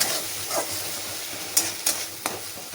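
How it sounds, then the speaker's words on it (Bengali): Spices being stirred in a hot pan: a steady sizzle with a few sharp scraping strokes of a spoon against the metal. "এবার সামান্য পরিমাণে একটু নাড়িয়ে জল দেব।"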